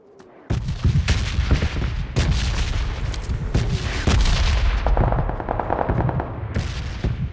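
Gunfire in the battle royale video game PUBG Lite, with loud bursts of automatic weapon fire and single shots close by, repeating in irregular volleys for several seconds with no talking.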